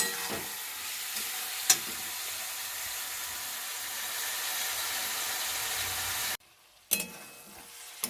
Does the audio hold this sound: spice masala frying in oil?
yes